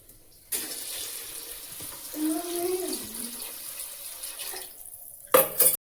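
Water runs steadily from a tap into a vessel for moong dal khichdi, the pitch rising briefly as it fills, then the flow stops, followed by a sharp clatter.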